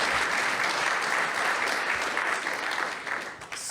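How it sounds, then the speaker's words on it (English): An audience applauds the new Alienware gaming lab at a college grand opening, a thick, sustained round of clapping that stays loud and close, then begins to thin out near the end. "you guys need the round of applause for this facility"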